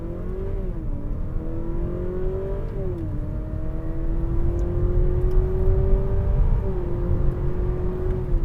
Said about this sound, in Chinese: 我们再试多一次它的静止加速啊